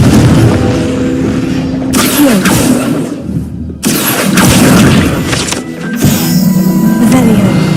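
Fiery Confringo spell explosions burst in Hogwarts Legacy, loud booming blasts with rumbling tails that repeat several times in close succession.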